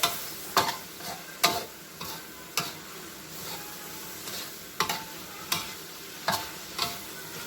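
Cabbage shoots and holy basil stir-fried in a pan, with sharp scraping strokes of a spatula striking at irregular intervals over a low steady sizzle, close up and without voices.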